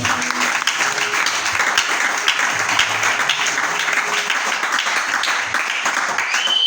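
A church congregation at a Sunday service applauds in steady, dense clapping that fills the room at an even level from start to finish, with faint voices mixed in.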